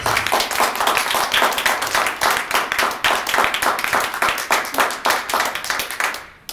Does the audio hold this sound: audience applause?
yes